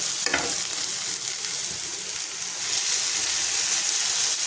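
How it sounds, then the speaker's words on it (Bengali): Chopped onion, capsicum and tomato frying in a pan, a dense, even sizzle with a few stirring scrapes, close and steady throughout without speech. "এবার আমি টমেটো কুচিটা দিয়ে দেবো নাড়াচাড়া করে নেবো একটু"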